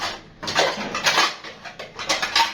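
Plates and bowls set out on a kitchen table while preparing a Ramadan iftar meal: a series of bright ceramic clinks and clatters in irregular bursts, fairly close and moderately loud, with no talking.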